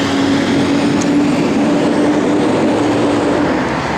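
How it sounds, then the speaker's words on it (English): Loud, steady road traffic roars close by without a break, a dense continuous wash of engine and tyre noise with no talking over it. "Sorry, lots of loud traffic today."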